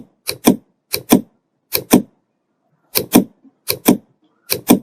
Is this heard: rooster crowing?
no